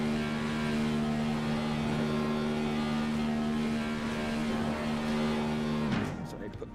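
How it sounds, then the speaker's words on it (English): Race car engine held near redline in the iRacing sim, Bump and Run Cup Series at Phoenix: a steady, loud, buzzing engine drone with strong harmonics that runs continuously, then drops in pitch as it lets off near the end. "keep redlining our engine here"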